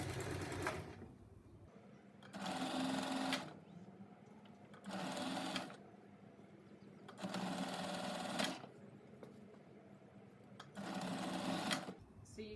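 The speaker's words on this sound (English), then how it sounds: "sew forwards, then backwards, so our stitching doesn't come undone." A sewing machine stitches the seam of a fabric scrunchie in four or five steady bursts of whirring, with short pauses between them, close by and with a voice speaking at times.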